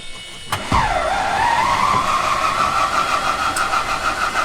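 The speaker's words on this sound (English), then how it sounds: "Gonna start center engine." A 1929 Ford Tri-Motor airplane's center radial engine cranks after a sharp click, catches and settles into a loud, steady running drone with a rising then level tone, close by and without talk.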